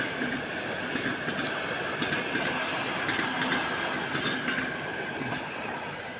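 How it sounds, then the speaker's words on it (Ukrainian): A train rolls past on the railway right beside a rural home near fields where goats graze, a steady loud rumble of rail cars with faint clickety-clack throughout, no voices. "Кстати, поїзд їде."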